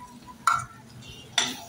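Tomato being stirred and sautéed in a pan while cooking wet Bombay duck (bombil), with two sharp spoon-scrape bursts against the pan over a soft low background.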